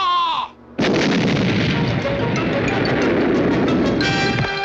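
Cartoon cannon fire from a 1966 animated series: a loud, sustained booming roar that rolls on for several seconds right after a short tonal cue.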